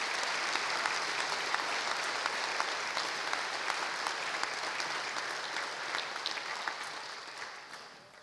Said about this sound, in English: Can I get a round of applause for Professor Delaney?